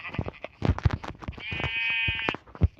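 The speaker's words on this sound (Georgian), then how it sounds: "მატყლი და ორი ცხვარი არის ერთმანეთში" Sheep bleat close by in a village setting, several short nasal calls and one longer wavering bleat among scattered rustling and knocking.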